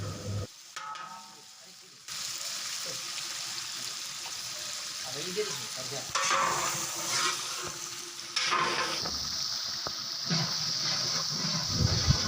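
Ghee sizzling in a pot while a cook makes chicken roast, a loud bubbling hiss that surges after a brief quiet start, with stirring scrapes and voices faintly underneath.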